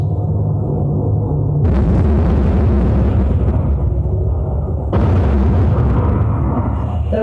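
Bombs explode during the Fire Blitz on Belfast: two loud, deep blasts a few seconds apart, each followed by a long rumbling roar over a steady low background drone.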